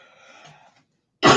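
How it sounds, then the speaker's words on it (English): A single sharp, loud cough bursts out at the end after a stretch of soft murmuring and a brief silence, close to the microphone. "my cough is coming back"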